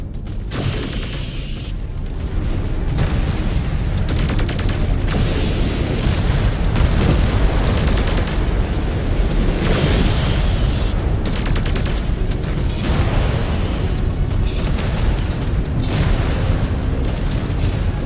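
Mech weapons fire and explosions rumble almost without pause in the MechWarrior 5: Clans video game. There are loud booming blasts and bursts of gunfire over a dense, continuous battle din.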